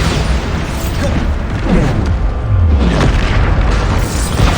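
The Bombarda spell goes off in a video game as a loud, continuous booming rumble with falling low tones and crackling bursts.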